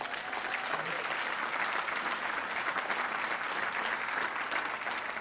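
Sustained applause from an audience at a political speech by a U.S. congresswoman, a dense steady wash of many hands clapping at an even level throughout, with no voices standing out.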